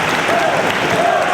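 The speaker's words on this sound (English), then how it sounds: "And listen to this crowd." A large crowd of wrestling fans in the Chicago area applauds and cheers at a live Ring of Honor event, with dense continuous clapping and a commentator's voice under the noise.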